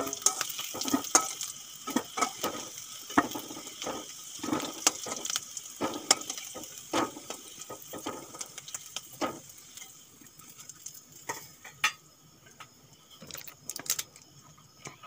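Potatoes fry in oil in a pan while being stirred for aloo dum, with a soft sizzle under irregular scraping and clinking of the spatula against the pan, close up and fairly quiet.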